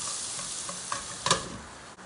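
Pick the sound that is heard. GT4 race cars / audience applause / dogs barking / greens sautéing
greens sautéing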